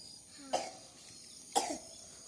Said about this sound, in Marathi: तुला खोकला आला ना